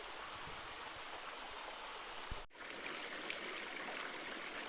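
A stream's running water rushes and burbles in a steady, faint wash, with a brief dip partway through, with no voices present.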